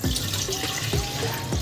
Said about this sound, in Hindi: ये कुकर में पहले बाऊजी डाल रहे हैं पानी